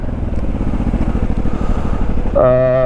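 A carbureted Honda Magna 250 V-twin motorcycle engine runs with a loud close throbbing rumble, then its note rises sharply into a steady higher revving tone near the end.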